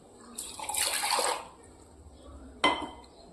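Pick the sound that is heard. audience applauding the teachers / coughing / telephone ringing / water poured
water poured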